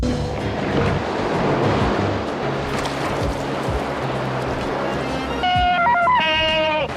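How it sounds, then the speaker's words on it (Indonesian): Big ocean waves surge and crash with a continuous roar of surf and wind buffeting the microphone. Near the end, a brief tonal, bleating-like sound rises over the water noise. "Ia pun terombang-ambing oleh besarnya ombak"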